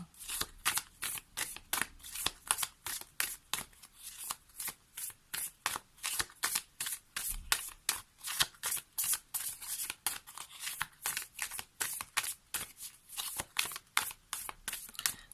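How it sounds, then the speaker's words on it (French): Tarot cards being shuffled by hand in a steady, rapid rhythm of crisp riffling and slapping bursts, close and fairly loud, with no talking throughout. "on va prendre une carte issue de la magie des arbres"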